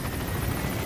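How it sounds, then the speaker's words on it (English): The support helicopter in the video game Metal Gear Solid V: The Phantom Pain arrives with a dense, steady rotor roar and engine wash that fills a very brief moment, loud and continuous. "Support helicopter is arrived."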